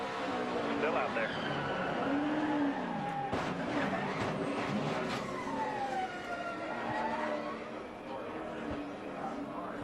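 An on-board NASCAR race car engine in Elliott Sadler's car at the 2012 Great Clips 200 drones loudly, with pitch sweeps as it shifts, and commentators talk over it.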